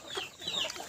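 Free-range village hens and roosters cluck in a brief, fairly faint spell of short, scratchy calls overlapping one another, with no voices.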